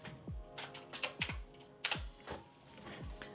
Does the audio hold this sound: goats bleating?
no